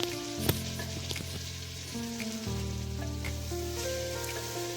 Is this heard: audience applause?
no